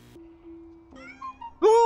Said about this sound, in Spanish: ¡Oh, un gatito!